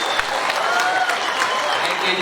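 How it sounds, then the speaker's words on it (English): Audience applause at a World Tourism Day celebration, a steady patter of clapping from a crowd filling the room, moderately loud and continuous throughout. "A round of applause again for this."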